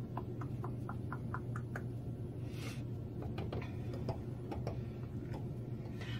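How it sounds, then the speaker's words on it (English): An air conditioner runs close overhead in a room, giving a steady low hum throughout, with small clicks and taps scattered on top. "I don't know if you can hear my air conditioner, but it's running right now"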